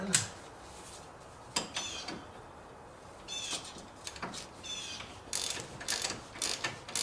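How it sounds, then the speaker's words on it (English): A ratchet tightens a bolt on a Nissan Murano suspension, with faint bursts of rapid clicking separated by pauses and quiet workshop background. "Ratchet it in."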